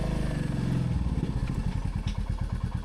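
A motorcycle engine idles steadily, then its firing pulses become distinct and rhythmic as it is shifted into first gear, close and fairly loud.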